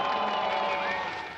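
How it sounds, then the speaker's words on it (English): A crowd roars at the K1 men's 200 m canoe sprint final of the ICF World Cup and Olympic qualifier, a dense distant cheer that swells briefly and then fades. "the crowd roaring on the K1 men 200 final"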